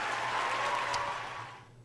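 A short burst of clapping from a group, steady at first and then fading away within two seconds.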